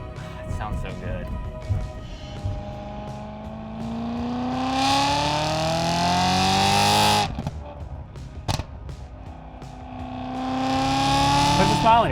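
BMW E92 M3 engine revving while driving, climbing through the gears with rising pitch, a sharp shift break, then building again, fairly loud from inside the car, with a person talking over parts of it.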